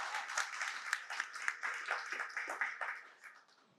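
A business association meeting crowd on Kaua‘i clapping, a modest group of distinct hand claps with audible individual hits, building briefly and then tapering off toward the end.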